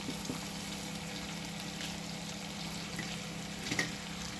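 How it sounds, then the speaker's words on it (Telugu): Chicken deep frying in hot oil gives a steady, low bubbling sizzle with a constant hiss and a few faint pops, moderately quiet and uninterrupted. "ఫ్రై అండి, డీప్ ఫ్రై"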